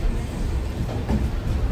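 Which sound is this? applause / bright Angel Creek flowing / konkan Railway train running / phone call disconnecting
konkan Railway train running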